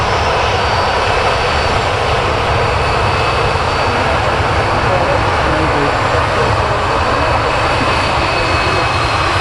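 A KLM jet airliner rumbles at Manchester Airport, its broad engine roar loud and steady throughout, with people chatting faintly underneath.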